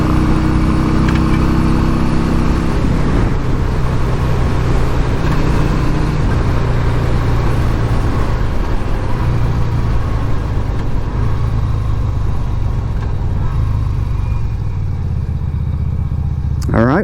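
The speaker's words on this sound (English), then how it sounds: "Idling well, having no problems." A 1988 Yamaha Virago 250 motorcycle engine idles steadily and loudly up close in neutral after a carburetor install, a constant low rumble with no revving throughout.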